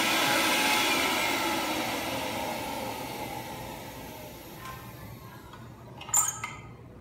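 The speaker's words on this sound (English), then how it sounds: "Turn the vacuum on for 2 seconds" The vacuum pump of a vacuum forming machine makes a steady, fairly loud whooshing roar that slowly fades away. A few light clinks follow as it stops.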